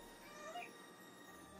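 A pet cat meows faintly indoors, a soft drawn-out call over steady background hiss.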